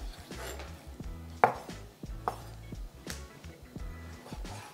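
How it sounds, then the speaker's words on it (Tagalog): A knife chops pork belly into small pieces on a board for Filipino laing, with a run of sharp, close, irregular thuds and one louder crack partway through. No one speaks. "Ganito ko lang hinihiwa guys yung pork belly"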